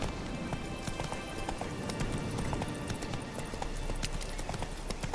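Horse hooves clopping steadily as a rider travels on horseback in The Witcher 3: Wild Hunt, a brisk continuous galloping rhythm of sharp close hoof strikes over a constant background bed.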